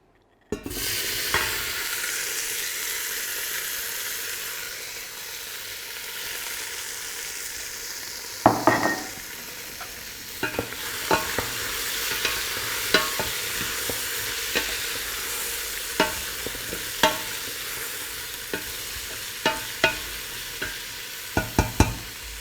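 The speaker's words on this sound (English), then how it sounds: "We want to sweat these three vegetables in the olive oil for a few minutes just to soften them." Carrots, onion and celery sizzle steadily in olive oil in a pan, a close, even frying hiss punctuated by repeated stirring scrapes and clacks of a utensil.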